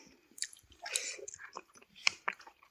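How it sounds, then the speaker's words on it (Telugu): Chicken bones from spicy dragon chicken chewed up close outdoors, with a few wet crunches and bites in irregular rhythm. "ఇలా తింటున్నాను బొక్కలు"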